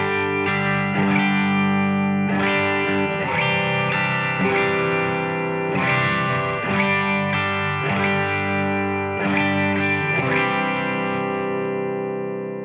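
A distorted electric guitar strummed with a jellyfish pick meant to mimic a 12-string, ringing chords struck in a slow repeating rhythm, loud and sustained with no talk.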